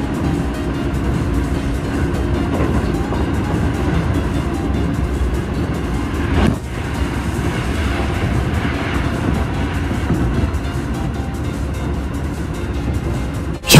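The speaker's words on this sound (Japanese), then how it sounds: "モーター音がね、ちょっとうるさいような気がしますね" A Keio 8000 series eight-car train with PMSM motors runs at high speed on express service, heard from inside as a loud, steady rumble and motor drone that continues unbroken throughout.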